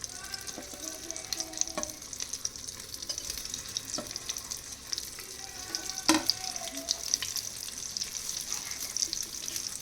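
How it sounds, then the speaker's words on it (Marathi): Brinjal frying in oil in a pan for an Indian stuffed brinjal dish, a steady close sizzle and crackle with occasional small clinks of stirring, continuous throughout with no talking. "याच्यामध्ये हे मी वांगे सोडते अगोदर. जास्तही गरम होऊ द्यायचं नाही तेल, त्यामुळे वांगे जळतात."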